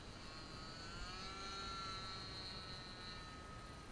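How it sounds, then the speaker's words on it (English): A K82 Kadet LT-40 model airplane engine drones steadily at full power during a low pass, a thin buzzing whine holding level throughout, moderately close with a slight swell in the middle. "Low pass, looking for the sound of the engine."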